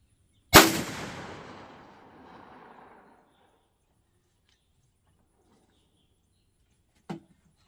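A .410 shotgun fires a 2.5-inch, 1/5-ounce Winchester Foster-type rifled hollow-point slug: one loud, sharp blast with a long fading echo, then a brief, fainter sharp crack several seconds later.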